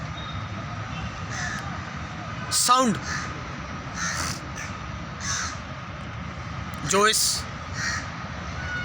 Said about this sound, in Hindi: क्रो की आवाज़ आ रही है, कौवे की आवाज़ आ रही है,